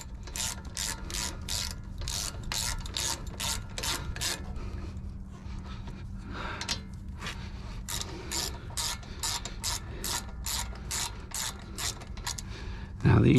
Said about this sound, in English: just tighten it up.